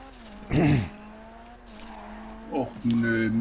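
A car drifts with squealing tires in GTA V Online, with two short screeching skids over a steady engine drone.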